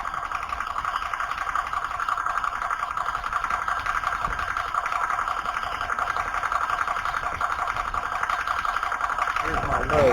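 An Air Venturi Nomad 2 compressor runs and builds pressure with a steady, loud mechanical drone and rapid buzzing pulse, continuous throughout and shifting slightly near the end.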